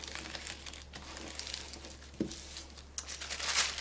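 A paper pattern is folded in half and then in half again, giving soft crinkling and rustling with a sharper crease sound partway through and a louder crumple near the end, close and without talk.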